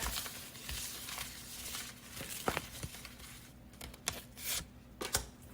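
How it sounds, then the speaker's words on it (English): A deck of Romance Angels oracle cards being shuffled close by, with soft papery riffles and flicks coming in irregular bursts against quiet room tone. "I'm now shuffling the Romance Angels deck."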